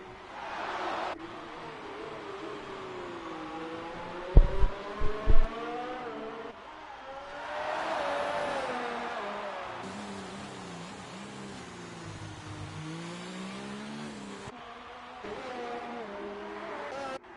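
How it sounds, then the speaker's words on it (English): A race car engine fires up and revs in an F3 racing video game during a Singapore Grand Prix round, the whine rising and falling behind a commentator's voice, with a few sharp thumps early on. "I'm hearing an engine fire up"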